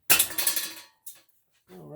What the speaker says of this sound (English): And this guy will come apart with a smack of a hammer